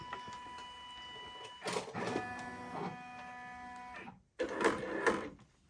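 A denim jacket is hooped on an embroidery machine while it scans, giving close mechanical whirring and motor tones in bursts, a brief pause, then another buzzing movement, with no speech.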